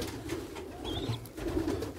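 Young tumbler pigeons in a loft, soft low cooing repeating close by over a constant background hum, with a brief faint higher whistle partway through.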